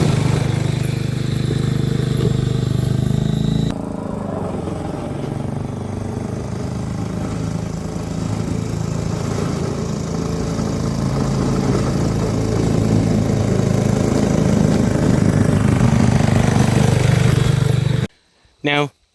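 A garden tractor set up as a snow plow rig, fitted with a 48-inch Craftsman plow, runs its engine at a steady, throaty idle for the whole stretch. It cuts off abruptly near the end, and voices are audible at times.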